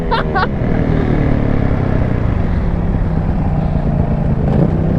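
A supermoto motorcycle held in a wheelie roars loudly and steadily throughout, its engine note close and continuous with wind buffeting, and a brief voice is heard near the start.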